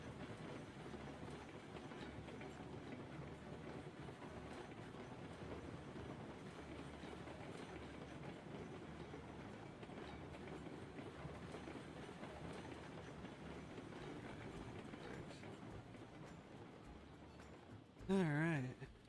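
A locomotive coasts in within the railway game Railroads Online, a steady low rolling rumble of wheels on track with faint rhythmic clacking, fairly quiet, ending with a short louder squeal-like burst.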